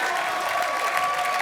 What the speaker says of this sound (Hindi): ताली वाली बजाया है